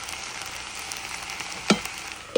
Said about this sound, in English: So I'm going to let this get sauteed down pretty good.